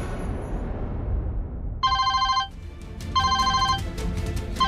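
A telephone rings in a short electronic ringtone, two clear bursts of bright repeated tones separated by a pause, loud and close over a low room rumble; no one speaks.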